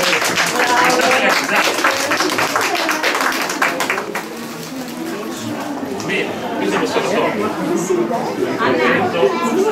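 A church crowd at a Madonna dei poveri festivity applauds Don Michele, a dense, steady wash of clapping for several seconds that thins slightly midway, with people chattering and calling out underneath.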